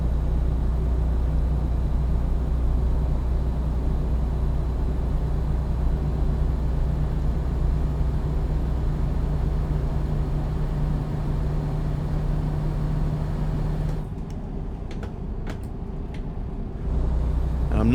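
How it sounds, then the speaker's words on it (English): A train passes close by in American Truck Simulator, a loud steady low rumble with a droning hum that holds, then thins out abruptly near the end. "Got a train somewhere. Pretty close, pretty loud."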